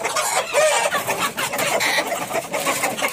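Tiger breed rooster and hens clucking on a farm, loud and close, a steady stream of overlapping clucks and calls with no talk.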